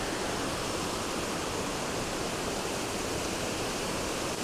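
A mountain stream near the Watkin Falls on Snowdon, crossed by a slate bridge, rushes in a dense, constant broadband wash, close and unbroken with no other sounds.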